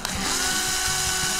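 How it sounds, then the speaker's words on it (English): Power drill boring a hole into a QuadLugs swivel motor mount under light pressure, a steady high whine running unbroken for the whole moment, close and fairly loud with no talking. "put a little bit of pressure, and we'll drill that one out"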